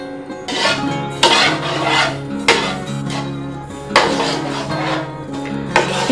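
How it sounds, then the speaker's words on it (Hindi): A spoon scrapes and clatters around a metal wok of semolina halwa in steady, repeated strokes about a second apart. The stirring is close and loud, with no talking. "इस तरह से मुसलसल चम्मच चलाते रहें ताकि सूजी कढ़ाई के पैंदे से ना लगे"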